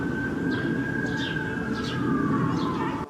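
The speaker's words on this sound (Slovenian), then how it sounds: "se v ozadju že sliši tuljenje siren." Emergency sirens wail in the distance near Koseški bajer pond in Ljubljana during an ice accident, one steady tone slowly falling in pitch, with faint bird chirps and outdoor noise around it.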